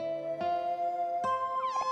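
A cartoonish cat meow from the video game OMORI, rendered as sustained, buzzy tonal notes that shift pitch twice and then bend and wobble upward at the end, steady and fairly loud with no talking.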